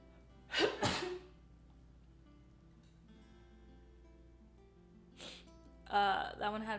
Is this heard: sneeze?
yes